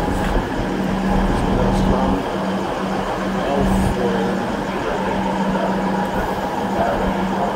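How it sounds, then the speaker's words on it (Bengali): A train pulls into a station in Germany, heard as a steady, loud rumble with a constant humming tone that runs throughout, with no break or pause. "ট্রেনটা এখনই থামবে।"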